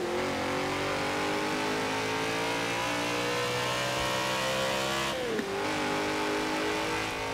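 A stock 2002 BMW M3-GTR in the game Forza Horizon 4 launching hard, its loud engine roaring and climbing in pitch, then briefly dipping at a gear change before rising again.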